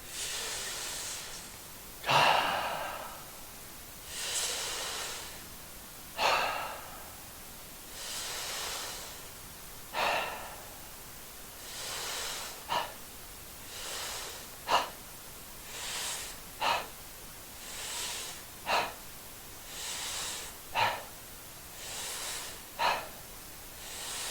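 Deep, slow breaths during a yoga side-body exercise, close and audible, with about a dozen long inhales and exhales repeating in a steady rhythm and no speech over them.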